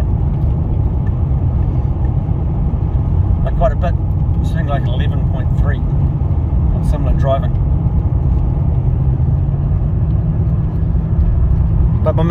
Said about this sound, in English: Misfire's still there a little bit.